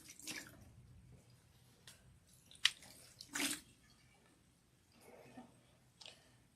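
Water is poured over someone's head for a hair wash, coming as a few separate splashes and trickles with quiet gaps between them, close by.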